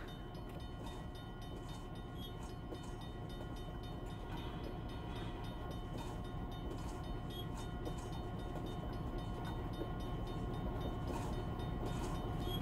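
A train arrives at a rail yard near a level crossing in a mobile train shunting simulator. A loud, steady rumble of locomotive and wagons builds slowly, with a rhythmic rolling clatter underneath and no voices.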